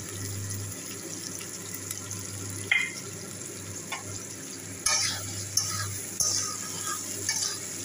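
Papaya is stir-fried in a pan with ground coriander, cumin and chili powder: a steady sizzle broken by repeated scraping stirs and clattering knocks, heard close without talk.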